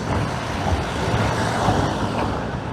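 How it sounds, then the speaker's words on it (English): A road vehicle rumbles past close by, a loud low engine and tyre roar rising and easing over a few seconds. "See, that was a car driving by."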